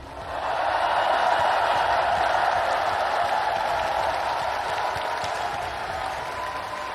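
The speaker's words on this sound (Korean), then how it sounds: "우리 두 분 후보님께 뜨거운 격려의 박수를 부탁드립니다" A large Democratic Party convention crowd applauds two candidates with encouragement, a dense, sustained roar of clapping that swells quickly and holds steady, gradually easing toward the end.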